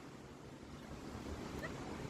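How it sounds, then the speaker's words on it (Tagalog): Steady, strong wind roars and buffets the microphone, continuous and unbroken with no voices. "the wind is so stark."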